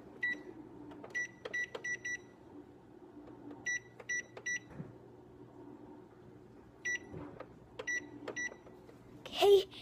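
A toy Easy-Bake oven is switched on to preheat and its timer runs, giving clusters of short electronic beeps in bursts over a low hum, with a clatter near the end.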